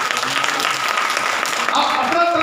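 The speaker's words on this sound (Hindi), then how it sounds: "ताली बजा के" A congregation at a Hindi Bible study claps in a dense, continuous round of applause, close and fairly loud, with a voice carrying faintly beneath it and the clapping swelling near the end.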